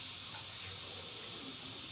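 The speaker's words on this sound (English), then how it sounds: "So I'm going to wash my hands, and we're going to get started." Water runs steadily from a kitchen tap into a sink for hand washing, a broad continuous hiss that holds even and fairly faint throughout with no voices.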